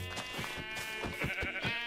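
Sheep bleating in the Minecraft video game, a few short wavering bleats in quick succession over a steady background of game noise, moderately quiet.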